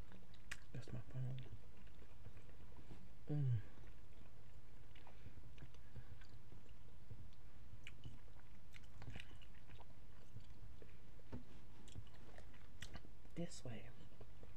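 Macaroni and cheese is chewed close to the microphone, soft wet smacking and squishy mouth sounds repeating irregularly over a quiet background, with a brief murmur of voice.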